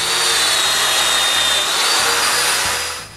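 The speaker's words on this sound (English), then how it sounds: "So, to keep the small stop aligned with the main fence, I make some domino mortises." A domino joiner cuts mortises at a woodworking mitre station, a loud, steady high-pitched motor whine with a shifting tone that winds down at the end.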